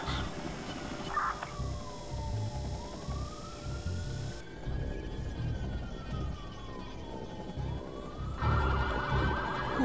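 Police sirens in the video game Watch Dogs wail in a steady rising and falling sweep over a dense rumble of engines and traffic, loud and continuous throughout.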